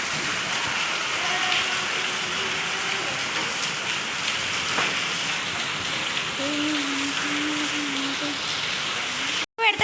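Heavy rain with hail pours steadily in Hyderabad, a dense, continuous patter of drops and ice striking surfaces close by, with faint voices in the background and a brief dropout just before the end.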